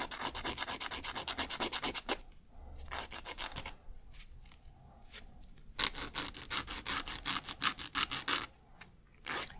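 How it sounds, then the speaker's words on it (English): Nail file shaping fingernails during a salon manicure, rapid rhythmic rasping strokes up close, broken by short pauses before the brisk filing resumes. "Then we're going to go ahead and file to shape."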